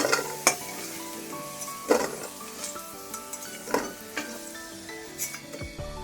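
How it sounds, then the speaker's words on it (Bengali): Lightly salted potatoes fry in oil in a pan with a steady sizzle, while a spatula stirs and scrapes the pan every second or so, close up and with no voices. "আমি আলুগুলো ফার্স্টে বসিয়ে দিলাম সামান্য একটু লবণ দিয়ে দিলাম আলুগুলো আস্তে আস্তে ভাজা হোক"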